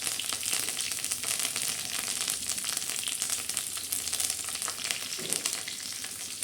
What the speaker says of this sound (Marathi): आपण तेल टाकलं आहे त्याच्यामध्ये कडेपत्ता सोडणार आहे जिरे टाकणार आहे